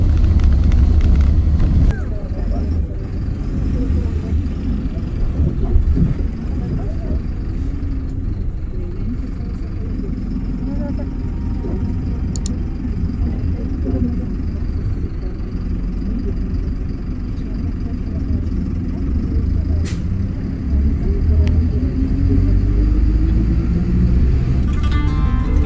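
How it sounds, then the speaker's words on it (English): Inside a chicken bus riding the road in Puebla, Mexico, toward Zacatlán, a heavy, steady low engine rumble and road noise fill the whole stretch, loud and continuous with only slight swells. "let's hop on a chicken bus"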